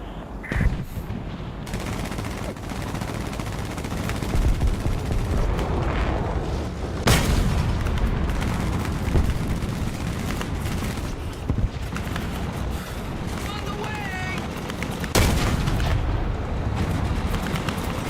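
Artillery and gunfire in the video game War Thunder: a continuous barrage of booming cannon shots and rattling machine-gun bursts, with several loud blasts standing out over a dense rumbling battle background.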